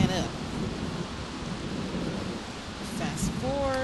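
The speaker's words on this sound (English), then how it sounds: "That rain, will it ever stop?" Rain and thunder in The Sims 3 make a steady, close broadband hiss of falling rain, with low rumbling thunder beneath it throughout.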